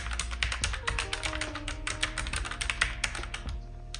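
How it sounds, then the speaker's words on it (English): Rapid, uneven keystrokes on a Logitech MX Mechanical Mini wireless keyboard fitted with red switches, close-up clicking and tapping bursts over about four seconds, no talking. "It's a mechanical wireless keyboard, in my case with red switches."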